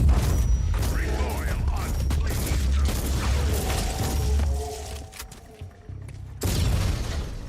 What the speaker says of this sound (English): That's a massive explosion if it hurt me from that far away.